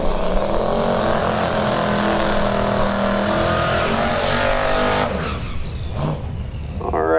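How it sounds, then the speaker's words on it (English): A turbocharged 331 cubic inch small block Ford drag car engine fires up and idles loud and rough at a drag strip, a steady rumbling drone that cuts back near the end into lumpy, uneven idle. "331 cubic inch turbocharged small block Ford comes to life left-hand side"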